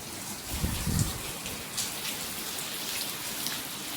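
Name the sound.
heavy rain falling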